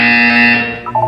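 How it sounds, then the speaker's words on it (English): A Portal 2 test-chamber buzzer sounds as one steady, bright electronic tone lasting most of a second, followed by a couple of short, lower blips, loud and alone. "You will hear a buzzer. When you hear the buzzer, look down at the floor."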